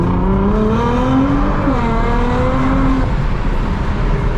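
A Nissan GTR accelerating hard from inside the cabin, engine note climbing loud and steady through a gear change, with a faint tire squeal under the roar.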